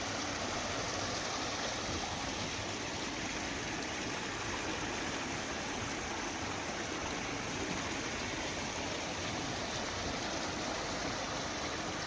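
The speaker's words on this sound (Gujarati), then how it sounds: "નદી નાળામાં પાણી વહેતા થયા છે" After heavy rain in a rural village, swollen streams carry water that rushes in a steady, dense roar. The sound is broad and unbroken and holds at an even level throughout with no voices.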